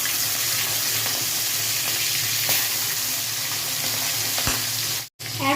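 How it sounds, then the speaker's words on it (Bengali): Prawns fry in hot oil, giving a loud, dense, continuous sizzle with a few faint clicks, broken by a brief dropout near the end. "তেলটা গরম হয়ে গেছে, এবার এর মধ্যে আমি এক এক করে মাছগুলোকে ছেড়ে দেব।"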